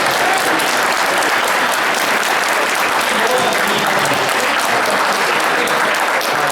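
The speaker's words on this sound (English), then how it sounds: "Standing ovation." A Comic Con panel crowd gives loud, continuous applause and a standing ovation, thick unbroken clapping filling the room at full volume from start to finish.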